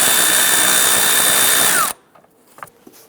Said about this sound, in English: Loosen the hose clamp securing the air intake tube to the throttle body. We're using a 5/16 shallow socket.